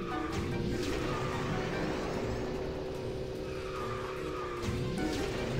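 A kart in the video game KartRider Rush+ double drifting: sustained tire screeching over a steady engine drone, loud and close, with a second skid swelling near the end.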